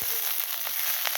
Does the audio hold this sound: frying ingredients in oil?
yes